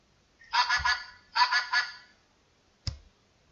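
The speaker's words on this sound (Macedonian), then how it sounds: "Гуска." A domestic goose honking in a farmyard setting: two bursts of loud, nasal honks in quick succession, then a single short call, close and clear with silence between.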